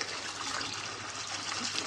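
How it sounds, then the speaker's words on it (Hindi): Water is poured steadily into a bowl set out for parrots, a soft continuous splashing gush at close range lasting a couple of seconds, with no voices. "पानी थोड़ा ज़्यादा डालते हैं, पहला गंदा पानी निकल जाए।"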